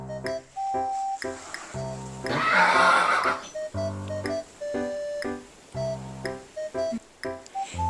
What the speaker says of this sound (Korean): 당나귀는 이히 이렇게 소리내며 발레한대요.